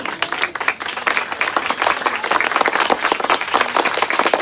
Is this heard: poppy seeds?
no